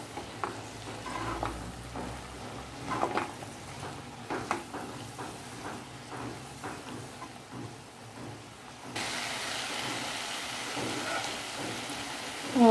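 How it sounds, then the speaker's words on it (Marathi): Drumstick flowers are sautéed in a pan, with soft, regular scrapes of stirring over a light sizzle. The frying hiss grows steadier and a little louder toward the end. "चांगली परतून घेऊ आपण ही फुलं आता."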